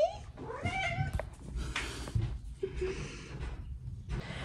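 A house cat meows several times nearby in a quiet indoor morning setting, its calls rising and falling with brief pauses between, while a person speaks softly in greeting.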